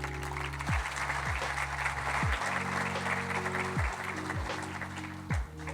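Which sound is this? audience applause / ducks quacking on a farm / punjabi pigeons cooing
audience applause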